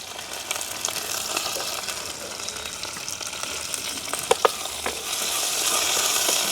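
Onion, green chili and curry leaves fry in oil for a village-style prawn curry, a continuous close sizzle with occasional sharp clinks and scraping stirs, no voices.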